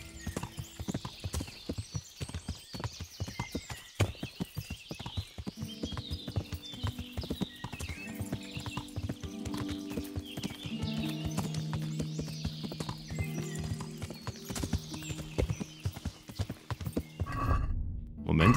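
Steady clip-clop of horse hooves from the video game Kingdom Come: Deliverance plods along in a continuous rhythm, close and clear, with a brief whinny and some tonal background sound.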